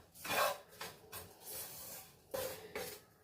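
Roasted coconut stirred in a hot pan while it cools, giving soft scraping, rasping strokes of a spoon against the metal, several sweeps in an uneven rhythm, close and fairly quiet, with no voices.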